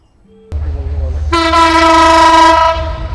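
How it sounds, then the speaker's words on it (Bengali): The Benapole Express rushes past at speed near Jagati railway station in Bangladesh, a heavy close rumble that swells as a loud, sustained horn blares over it. "আসছে বেনাপুল এক্সপ্রেস এই যে বেনাপুল এক্সপ্রেস অত্যন্ত দ্রুত গতিতে আমার পেছন দিয়ে চলে যাচ্ছে"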